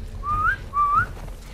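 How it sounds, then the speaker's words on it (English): Two rising whistles from enemy signalling in The Last of Us Part II, a pair of sharp, clear tones a moment apart over a low game ambience, with no talk. "there they go with that whistling shit"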